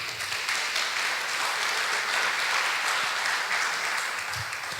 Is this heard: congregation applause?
yes